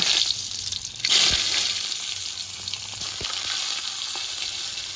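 Thin slices of eggplant fry in hot oil in a kadai, a steady close hiss and sizzle with a sharper crackling burst as pieces go in, continuing evenly with no one speaking.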